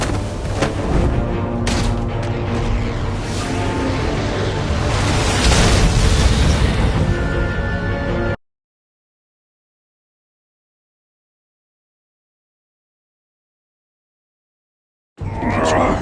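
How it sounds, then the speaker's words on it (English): A loud, rumbling explosion in a Batman video game, with dense crackling debris for about eight seconds, then sudden silence before the noise bursts back in. "Use Riddler's trap to protect Iman and myself from the explosion."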